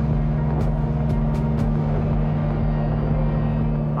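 A VIZYO 25 motorboat engine cruising at 4,500 RPM and 30 knots gives a steady, loud low drone with constant hull and water rush, a few brief higher splashes or hiss bursts early on, and no voices.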